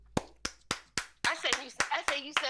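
One person clapping hands in applause, about nine sharp claps in a steady rhythm, close and clear, with a voice speaking over the later claps.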